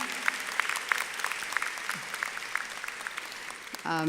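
Audience applause at a commencement ceremony, a steady wash of clapping with sharp individual claps standing out, fairly distant in a large space, ending with a brief voice over the fading hands.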